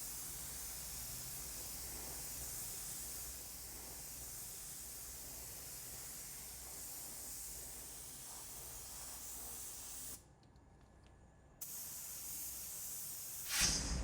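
Black epoxy primer sprays onto bare metal spots on a 1971 Chevy Caprice, a steady close hiss of the spray gun that cuts off briefly near the end before resuming.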